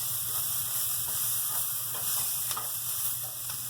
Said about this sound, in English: I just put about a tablespoon of olive oil in the pan, and I'm caramelizing my shallots